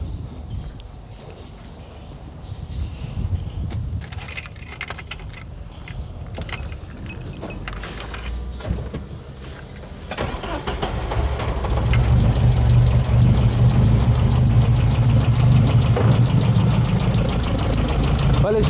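Opel Kadett Superboss with a modified 63 mm exhaust cranks and starts, its engine settling into a steady, louder idle after some keys jangling and handling noises, with a few voices nearby.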